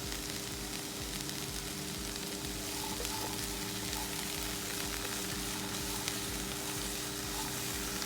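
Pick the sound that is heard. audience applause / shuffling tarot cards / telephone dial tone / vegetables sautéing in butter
vegetables sautéing in butter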